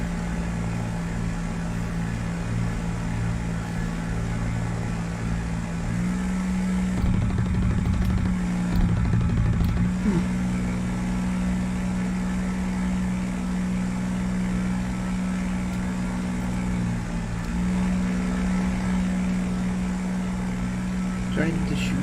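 A P-40F fighter's piston engine drones steadily in War Thunder, a constant low hum with a brief throttle surge partway through, while someone talks over it.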